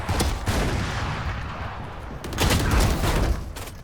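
Judge shotgun blasts fired by the agent Harbor in Valorant, a few heavy booming shots in quick bursts, loud and close, with no talking.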